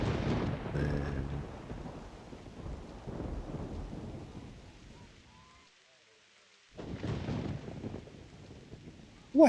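Rain pouring down outdoors, a steady broad hiss with low rumbling, fading to near silence midway before the downpour surges back heavily.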